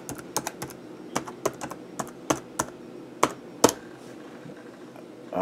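Typing on a computer keyboard at a login box, about a dozen crisp separate key taps in an uneven rhythm, close and fairly quiet, alone without speech.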